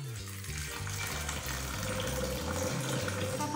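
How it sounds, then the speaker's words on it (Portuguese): Water is poured from a glass onto corn kernels in a blender jar, a steady close splashing and gurgling stream running without a break and with no talking. "Vou colocar aqui uma boa quantidade de água."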